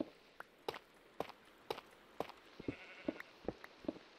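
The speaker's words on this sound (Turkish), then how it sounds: "Ha, keçi diyorum, koyunmuş ya." Sheep in Minecraft give about a dozen short bleats in a quick, uneven series. The bleats are fairly faint over a quiet background, with no talking.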